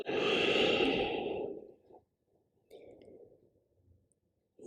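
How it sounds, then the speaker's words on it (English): Deep breathing during a yoga session for ankylosing spondylitis: a long, loud exhale that fades out, then a quieter second breath after a short pause, close to the microphone with no talking. "One more breath."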